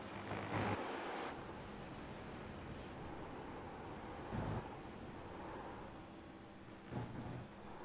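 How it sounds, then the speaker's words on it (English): Tires sliding on a race car in a sim racing game at Watkins Glen, heard as a steady broadband hiss and rumble with a few brief louder surges, fairly constant in level and with no talk. "You can hear the tires sliding on Brink's car."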